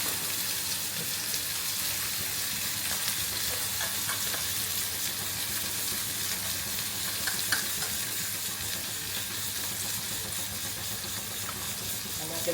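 Mustard seeds and cabbage with green chili sizzle in hot oil in a home kitchen pan, giving a loud, continuous hissing fry for over twelve seconds.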